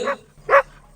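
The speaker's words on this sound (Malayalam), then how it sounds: "ആദ്യമായിട്ടാണല്ലോ പട്ടി കൊരയ്ക്കുന്നത്" Two sharp, short dog barks, a half second apart, ring out in the horror video game Endless Nightmare, fairly close and clear over a quiet background.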